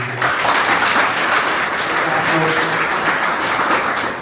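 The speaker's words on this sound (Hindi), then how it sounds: "जोरदार तालियां आप सब एक बार लगा दीजिए" A village youth assembly audience gives sustained, vigorous applause, a thick continuous roar of clapping throughout with some voices faintly underneath.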